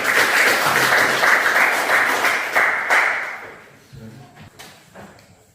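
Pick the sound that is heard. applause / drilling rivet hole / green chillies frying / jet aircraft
applause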